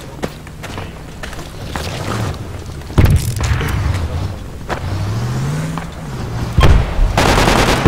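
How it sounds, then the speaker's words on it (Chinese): Sharp gunshots and heavy booms from a firefight inside a building in the military shooter Project Reality, mixed with a vehicle engine rumble and whining motor sweeps, with a rapid automatic burst at the end. "里面有枪声"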